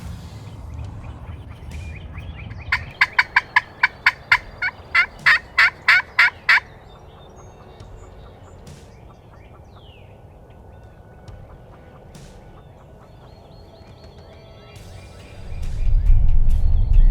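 Wild turkeys gobble in Kentucky woods during a spring turkey hunt. A rapid, clear run of about a dozen pulsing calls is followed by a long quiet stretch of faint outdoor ambience, and a low rumbling noise ends the passage.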